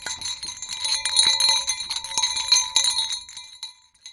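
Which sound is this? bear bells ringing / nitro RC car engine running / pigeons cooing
bear bells ringing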